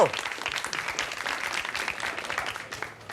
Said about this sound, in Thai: อ่ะปรบมือให้น้องหน่อยนะครับ